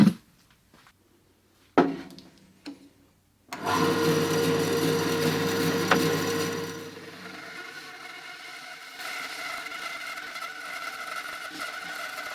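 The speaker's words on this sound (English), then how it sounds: "the next thing I'm going to do is take them to the bandsaw and split them in half." A bandsaw splits woodturning blanks in half. The motor starts after a few faint knocks, then a steady whirring cut hums for several seconds and eases into a lower, continuous running drone.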